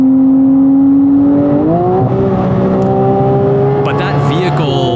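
A Porsche Cayman GT4 with a PDK gearbox on a track holds a loud, steady engine drone from inside the car, its pitch stepping sharply at quick gear shifts.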